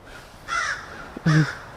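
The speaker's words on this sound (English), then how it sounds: "there's a bunch of crows going off while I have this Itachi shirt" Crows caw twice outdoors, harsh and moderately close, with a short pause between the calls and no voices.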